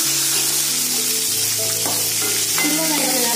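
Small shallots sizzle and crackle loudly in hot oil in a pan with red chillies for a Tamil okra tamarind curry, a steady dense frying hiss with faint stirring clinks and no talk.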